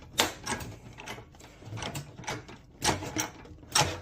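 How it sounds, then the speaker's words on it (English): Sheet metal bent in a manual sheet metal brake, with sharp clanks and metallic creaks at irregular intervals, several distinct bangs close up in a workshop. "you're going to bend that over all the way that your brake will go"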